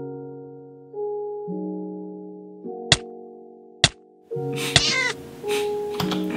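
A Minecraft cat meows once in a high, brief cry amid sustained musical tones and a few sharp ticks, clear and close.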